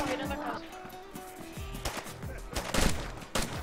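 Bursts of gunfire ring out in a first-person shooter match, with sharp repeated shots clustering toward the end while players talk over the action.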